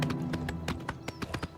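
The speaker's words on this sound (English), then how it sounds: "now I'm RP walking my horse" Horse walking in the game Oblivion Remastered, hooves clip-clopping in a steady, close rhythm of sharp taps over a low ambient hum, with no talk.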